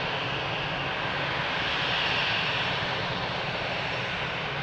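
Boeing 787 jet engines at Lisbon Airport, a steady broadband roar holding at even loudness throughout, heard from a distance.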